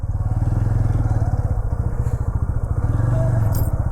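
A motorcycle engine idles close by, a steady low rapid chugging throughout with faint clatter and no other clear sounds.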